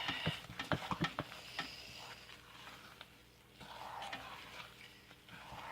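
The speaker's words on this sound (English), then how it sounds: "I'm gonna stir it the whole way because I'm gonna be gone for half an hour." Hot process sandalwood soap is stirred as it cooks, a soft close scraping and sticky clacking at first, then a low, faint churning stir through the rest, with no voices.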